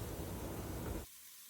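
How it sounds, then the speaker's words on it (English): Sliced tomato sautés in a pan of beef keema masala, giving a dense, close sizzling hiss for about a second before it abruptly drops away. "Now add 1 tomato sliced to this preparation and saute it until the tomatoes are mushy."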